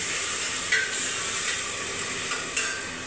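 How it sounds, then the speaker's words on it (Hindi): Finely chopped tomatoes added to fried onions in a home kitchen pan, giving a steady, close sizzle and hiss throughout, with a few faint stirring scrapes, no talking. "अब ये मैंने टमाटर काट के रखे, बारीक बारीक टमाटर डाल देती हूँ।"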